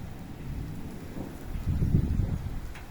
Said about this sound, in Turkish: Bugün öyle güzel bir yağmur, bakın gök gürültüsü